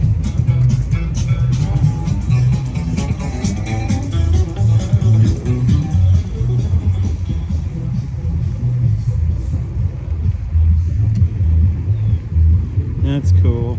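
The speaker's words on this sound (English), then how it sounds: "Alright, so there's some classic car show going on here." Classic cars at an outdoor car show produce a steady low engine rumble throughout, with a few revving swells. The sound stays loud and continuous, with a voice talking over it at times.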